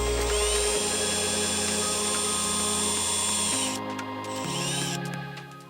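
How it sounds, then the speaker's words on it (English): A power drill bores through a plastic car trim panel during a dash cam install, a close, steady whine that shifts pitch a few times as the bit works through, alone. "I had to bite the bullet and actually drill the panel."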